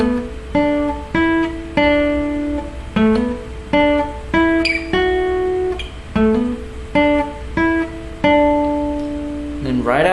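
Solo acoustic guitar playing a lead line, a steady run of plucked single notes and short phrases ringing close and clear with no voice over it.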